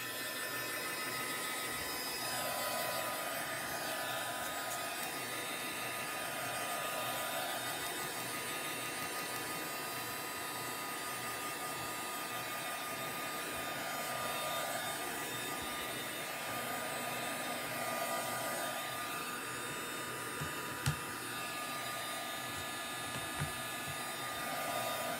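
A hair dryer blows over wet paint on a paint-stick fence gate, giving a steady, close whirring roar with a faint hum that holds for the whole stretch, its pitch wavering slightly as it moves.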